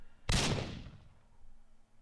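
A single sharp explosion in the Minecraft video game hits with a sudden loud blast, then decays over about a second into a faint rumble.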